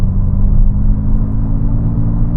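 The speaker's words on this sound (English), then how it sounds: "You put in boost mode, and this is the pickup from 40 to 70." A Honda Super N small car in boost mode pulling from 40 to 70, a steady low engine drone and road rumble heard from inside the cabin.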